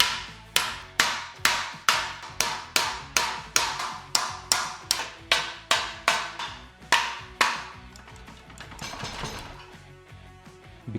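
Hammer blows strike the exhaust of a BMW K100 motorcycle during a teardown, about seventeen sharp, evenly spaced metallic hits over seven seconds, close and loud, then quieter rattling.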